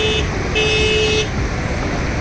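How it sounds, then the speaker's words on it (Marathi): Congested traffic jammed on a bridge near the overflowing Khadakwasla dam, with two bright horn toots in quick succession over a steady rumble of engines and crowd noise. "पूर्ण पुलावर जे आहे ती वाहतूक ठप्प जा केल्यासारखं झालं आहे"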